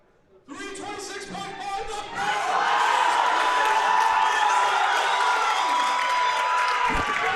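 Crowd noise at a powerlifting competition, a Canadian Westerns meet, swelling into loud sustained cheering and applause after a quiet start, with an announcer's voice and musical tones over it.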